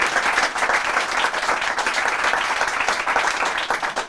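Studio audience applauding a guest arriving on a German talk show, dense continuous clapping at steady loudness for the whole stretch, with no voices over it.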